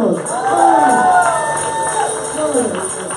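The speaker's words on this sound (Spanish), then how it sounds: "Un aplauso y un grito de júbilo" A church congregation at a praise and worship service cheers and shouts with joy, a loud, continuous crowd roar with rising whoops and voices, and clapping mixed in.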